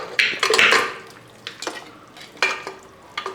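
Cleaned rib bones are dropped into a pressure cooker for a Kerala-style rib curry, with a few clattering, knocking impacts against the metal pot and some scraping that are close and fairly loud, then quieter clinks.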